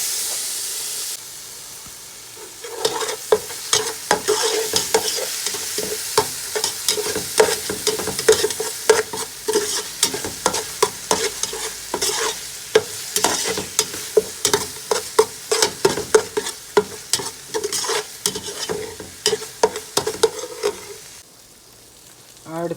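Ginger, green chilli and garlic paste sautéing in a pan, with a continuous sizzle and rapid repeated clicks of a spoon stirring against the pan, close and fairly loud, ending with a brief pause before the sizzle resumes.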